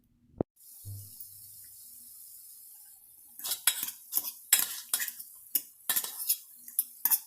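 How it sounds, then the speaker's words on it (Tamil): Utensil scraping and stirring in a pan as quinoa and coriander are mixed into cooked vegetables for quinoa pulao, a quick run of clinks and scrapes after a single knock and a quiet pause. "கீன்வாவையும் போட்டு கொத்தமல்லியெல்லாம் போட்டு மிக்ஸ் பண்ணி விட்டுடலாம்."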